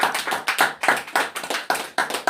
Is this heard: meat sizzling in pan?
no